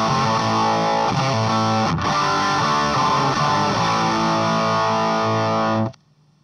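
Electric guitar through a vintage Dallas Rangemaster treble booster into an amplifier plays gritty, overdriven chords and riffs, loud and continuous, ending abruptly in silence.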